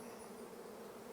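Honey bees buzzing at an open hive during a colony split, a steady dense hum of many wings, faint and continuous with no talk.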